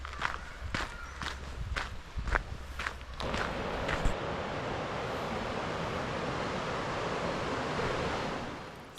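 The River Wharfe flows near Bolton Abbey as a broad, steady rush of water that swells up and holds loud and continuous, following a few crunching footsteps on a gravel path.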